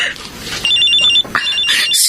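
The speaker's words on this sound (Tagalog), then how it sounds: "may tumatawag sa cellphone mo" A cellphone ringing with an incoming call, a repeated electronic trill in two bursts, loud and close, with people talking over it.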